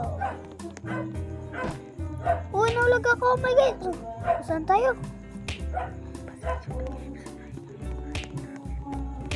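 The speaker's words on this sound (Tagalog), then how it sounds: "Pasensya na guys, maingay yung aso namin." A pet dog barks and yips noisily in repeated sharp bursts close by, mixed with whimpering cries, while people talk excitedly over game sounds.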